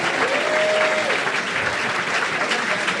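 A comedy-show audience applauds punslingers at a pun-off, a dense steady wash of clapping that fills the room, with a brief voice or whistle tone near the start.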